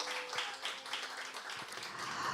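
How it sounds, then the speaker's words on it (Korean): Concert audience claps throughout, a steady, moderately distant patter of many hands with a faint tonal hum underneath and no talking. "다시 한번 뜨거운 박수 부탁드립니다"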